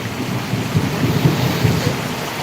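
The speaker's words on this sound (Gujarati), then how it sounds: "વીજળી સાથે વરસાદ પડે" Heavy monsoon downpour with thunder rolling over a housing society, a dense, steady roar of rain with low rumbling swells throughout, no voices.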